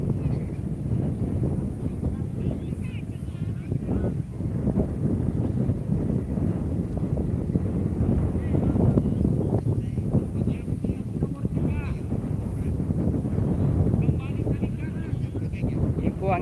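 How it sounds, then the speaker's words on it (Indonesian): Strong, steady wind gusts buffet the microphone at an outdoor kite flying competition, a continuous low roar with a voice talking over it. "angin kencang, betul. Kencang angin."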